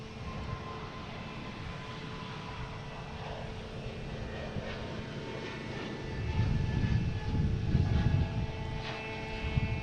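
Airplanes at Boston Logan International Airport, a steady broadband engine roar with a few tonal whines that holds throughout and swells louder near the end as an aircraft draws closer, with no talking.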